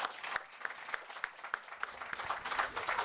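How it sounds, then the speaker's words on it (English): An audience claps in a hall, a scattered crowd producing sustained, moderately loud applause with distinct sharp claps standing out rhythmically for about three seconds. "Clap your hands if you've read American Dirt."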